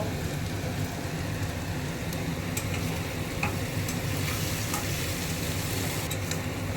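Potato pieces fry in a pan for aloo posto, giving a dense, even sizzle throughout with faint intermittent stirring clicks and no talk.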